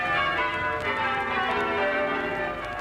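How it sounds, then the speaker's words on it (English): Church bells peal in an old Australian radio broadcast from 1957, a full, resonant ringing that carries on steadily, with no voices over it. "When the bells ring in 1957"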